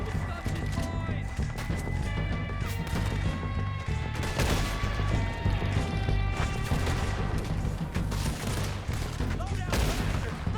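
Gunfire in the Red Dead Redemption 2 video game, dense rapid shots and crashes in a firefight, with shouting voices and horse hooves mixed in throughout.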